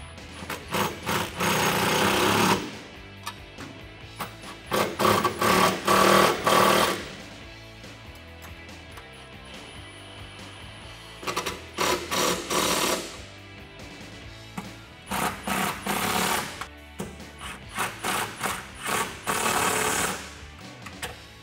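Bolts on the step bar brackets of a 2009-2018 Ram crew cab are tightened with a power tool: loud, buzzing bursts of a few seconds each, about five of them, separated by quieter gaps with no talk.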